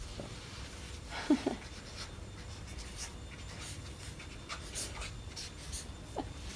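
A pen writes an answer on paper during a couples' quiz at home: soft, faint scratching strokes in a quiet room, with a couple of small louder taps and occasional breathing.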